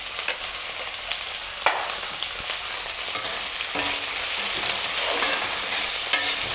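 Coriander powder, turmeric, red chilli powder and salt fry in a pan for a capsicum, tomato and egg curry, giving a constant close hiss with occasional spatula knocks and scrapes, and nobody speaking.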